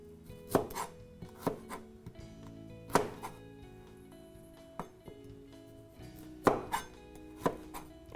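Vegetables chopped with a knife on a cutting board, a series of sharp, irregularly spaced thunks close by, fairly faint, with a quiet tonal background between the cuts and no speech.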